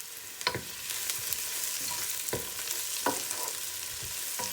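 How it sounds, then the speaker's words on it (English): Whole spices fry in sizzling oil in a pan for a vegetable curry while a utensil scrapes and stirs now and then, close and fairly quiet. "continue to frying them for a few minutes more"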